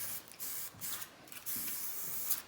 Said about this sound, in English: A little hair spray.